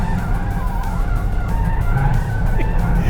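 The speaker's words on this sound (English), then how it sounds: "I love how it pulls you through some of these corners when you just stand on the gas pedal" A 2023 Toyota GR Corolla under hard throttle through corners gives a steady, loud engine drone with tire and road roar that holds without a break for the whole stretch.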